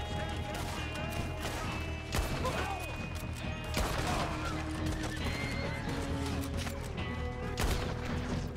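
A horse whinnies amid a dense, loud Red Dead Redemption 2 game soundscape of hoofbeats, gunfire and crashing, with shouting voices mixed in.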